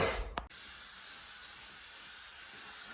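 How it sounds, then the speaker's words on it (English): A brief close puff from a can of spray-on sunscreen, then a steady, loud hiss of spray that continues without a break. "It's time to get some sunscreen on. I'm using this spray-on one because it's quick and easy."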